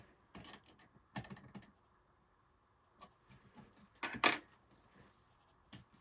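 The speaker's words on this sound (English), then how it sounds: "now I'm retightening the nut on the outside. Switch over to my 9/32 wrench" A 9/32 wrench retightens a nut on the metal frame rails of an Erector White Truck model: sparse, quiet metallic clicks and taps in small clusters, with a brighter clink near the end.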